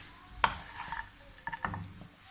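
A spoon stirs a spinach and egg mixture in a pan on the stove for cheera mutta thoran, making a few soft, close scrapes and clicks over a faint sizzle.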